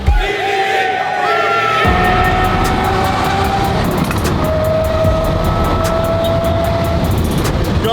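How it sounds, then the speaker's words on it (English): A 1500 hp McLaren 720 GTR engine runs close and loud with a steady droning tone that shifts pitch a couple of times, sustained throughout. "God, this car sounds really good."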